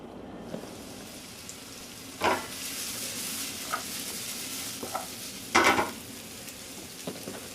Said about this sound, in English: We'll saute the celery, the onions, and the garlic to get their flavors to start